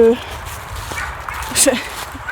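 An excited dog about to set out on a canicross mountain bike run lets out brief yips and whimpers, close by but short and scattered, partly under a person talking.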